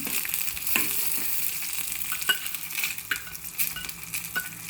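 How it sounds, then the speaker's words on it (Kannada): Dried Guntur red chillies crackle and sizzle steadily in hot tempering oil in a pan, with a few sharp pops and light clinks of a utensil against metal; no one speaks. "ಇದು ಬಸ್ತಿರೋ ತರಕಾರಿಗೆ ಪಲ್ಯಕ್ಕೆ ಒಗ್ಗರಣೆ ಹಾಕ್ತಾ ಇರೋದು"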